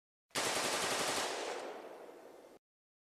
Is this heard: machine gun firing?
yes